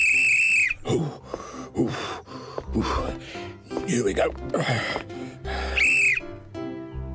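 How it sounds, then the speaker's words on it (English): A whistle blown in the Postman Pat cartoon, two loud shrill blasts at the start and near the end, with speech and effort sounds between them. "This whistle is great."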